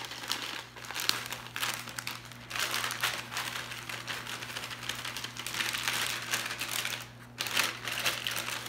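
A bag of yellow cake mix crinkles and rustles steadily as the mix is dumped out, close and continuous with a low background hum.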